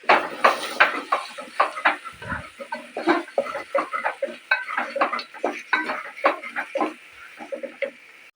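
Biryani masala and salt being mixed in a pan, with a rapid series of close scraping and tapping strokes from a utensil, rhythmic and fairly loud, with no talking.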